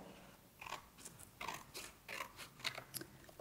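Scissors cutting coloured paper into an Easter egg shape, a series of short crunchy snips in an uneven rhythm, close and moderately quiet, with no voices.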